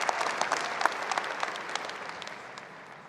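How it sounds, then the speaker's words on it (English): Graduates at a spring university commencement applaud themselves, a dense spread of clapping from a large crowd that gradually thins out. "Give yourselves a round of applause."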